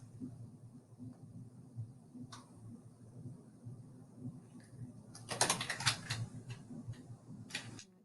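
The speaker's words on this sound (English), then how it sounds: "I'm going to start typing in cinnamon woods here." Quiet keyboard typing: a few soft key clicks, then a quick burst of rapid keystrokes, followed by scattered taps over a low background hum.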